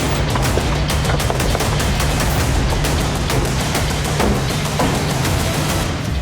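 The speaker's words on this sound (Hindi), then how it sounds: "वो गोली चलने की आवाज थी" Loud, rapid gunfire rattles in dense bursts, shots crackling one after another without a break.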